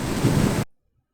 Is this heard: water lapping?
yes